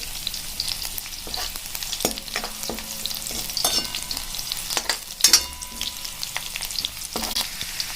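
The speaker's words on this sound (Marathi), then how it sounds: "आता हे फ्राय होत आहे" Masala for a methi dry prawn dish fries in a pan, a steady close sizzle broken by scattered crackles, pops and scraping stirs.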